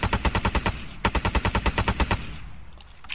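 Full-auto gunfire from a rifle in the video game Arma 3, two rapid bursts of sharp evenly spaced shots at a steady cyclic rate, loud and close, with a brief pause between bursts and a fading tail at the end.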